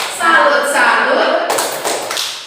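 A group performs the "tepuk salut" rhythmic clapping chant at a school session, with loud, close voices chanting together and quick claps and taps landing in time.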